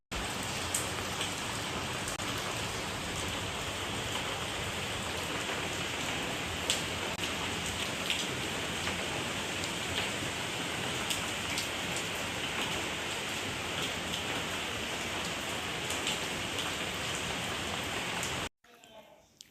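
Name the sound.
rain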